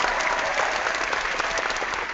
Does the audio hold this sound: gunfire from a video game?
no